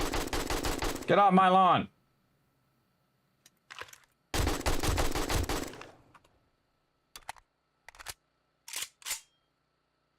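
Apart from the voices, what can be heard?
gunfire from a gun in the video game 7 Days to Die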